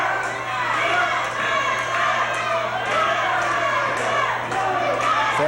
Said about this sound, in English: Fans trying to get Beck to move as they cheer, go, Bo, go.